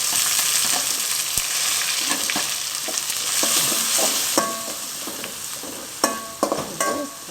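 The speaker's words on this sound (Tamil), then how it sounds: "அது கருவேப்பிலை அரை மிளகா வெங்காயத்தை போட்டுருவோம்" Curry leaves, chili and onion sizzle loudly in hot oil in a pan for home-style rasam, with steady frying hiss and scattered sharp stirring clicks and scrapes, no talking.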